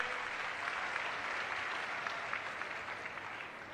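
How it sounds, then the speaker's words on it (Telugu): Steady applause from a rally crowd, dense clapping sustained at an even level from start to finish with no speech over it. "బాగు చేశామంటే గట్టిగా చప్పట్లు కూడా చెప్పండి"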